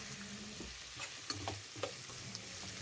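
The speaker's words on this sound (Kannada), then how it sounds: "ಬೆಳ್ಳುಳ್ಳಿನ ಈರುಳ್ಳಿ ಜೊತೆಗೆ ಚೆನ್ನಾಗಿ ಫ್ರೈ ಮಾಡ್ಕೊಳ್ಳೋಣ." Onion and garlic fry in a pan for a dry fish curry, a quiet steady sizzle broken by several distinct stirring clicks and spoon scrapes, close but low in level, with no voices.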